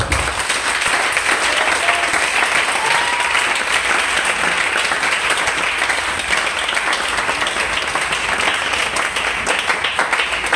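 A church congregation applauding at a French-language Sunday morning service, dense sustained clapping from a large crowd filling the whole stretch, loud and steady without pause.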